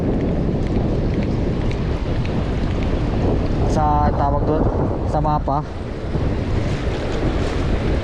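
Strong wind and surf from the sea at a low-lying river mouth in New Zealand make a steady broadband roar throughout, with someone talking over it.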